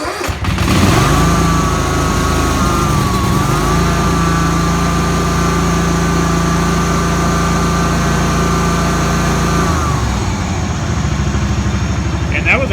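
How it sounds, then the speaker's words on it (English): Yazoo MidMax 52 mower engine cold starting: a brief crank catches almost at once, then a loud, steady idle drones close by for about nine seconds before the pitch drops as it changes speed. "And that was a cold start."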